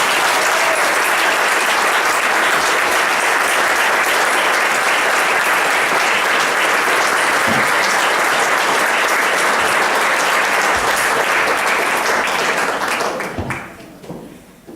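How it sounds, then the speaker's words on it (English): A long, sustained round of applause from a crowd at a school honor society induction ceremony, loud and steady clapping that holds for over ten seconds before tapering off at the end. "Let's give the inductees a round of applause."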